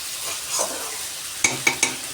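Chicken with spices sautés in a pan, a steady sizzle broken by three sharp utensil scrapes and clanks in quick succession near the end, close and fairly loud, with no voices.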